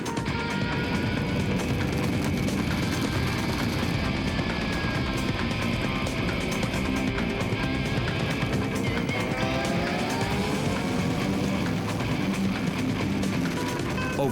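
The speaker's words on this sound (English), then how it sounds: "Arlen and Cory are leading a huge pack of bikers through the lush mountains of" A huge pack of more than a thousand motorcycles rides through the lush mountains of Oahu, making a dense, continuous engine roar with no pauses and some engines revving above the mass.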